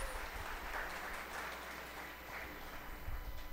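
Steady applause from a crowd, a soft wash of clapping that holds evenly throughout without voices over it.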